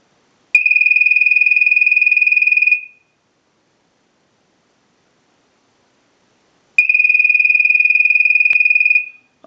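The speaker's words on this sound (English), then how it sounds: "send a ring cycle like you were getting a call" A North Electric Ericofon rotary dial telephone rings in two loud, high, steady electronic bursts of about two seconds each, with a long silent gap between them.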